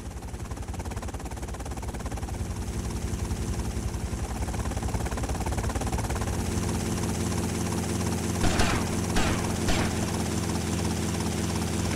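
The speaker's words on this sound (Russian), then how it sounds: "у них вертолет" Helicopter in the video game GTA Vice City, a loud, steady rotor chop and engine drone throughout, with a few sharp bangs like gunfire near the end.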